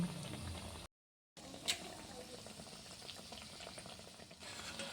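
Chhana jalebi, cottage-cheese sweets dropped into white oil, fry with a soft, steady crackle and bubbling that stays faint and even throughout, broken once by a brief gap of silence.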